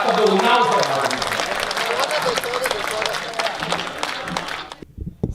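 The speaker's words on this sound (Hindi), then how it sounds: "सारा सदन जोरदार तालियां बजाएं" An audience at a Hindi poetry recital (kavi sammelan) claps loudly in a dense, sustained burst that thins out near the end, with a voice carrying over the noise.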